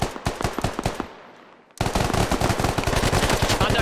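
Machine gun fire in the military shooter game Squad comes in rapid, loud bursts, one volley fading into quiet before a second sustained stream of shots starts abruptly and rattles on steadily.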